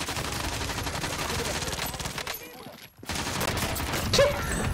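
Dense bursts of video game gunfire crackle almost nonstop, briefly dropping out near the middle before resuming, with a voice faintly mixed in.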